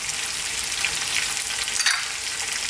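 Onions, garlic ginger paste and fresh green chilies fry in a pan for a potato peas curry, giving a loud, even hiss of sizzling oil that carries on throughout without any talk.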